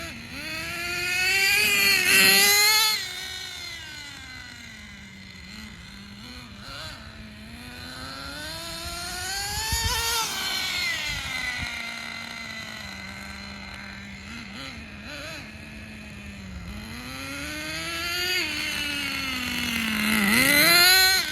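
Thunder Tiger Tomahawk RC car running on a two-speed transmission test, its electric-sounding motor whining and rising in pitch through repeated accelerations and slowdowns, fairly close and steady with no voices.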